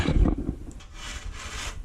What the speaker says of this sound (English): I started sanding this down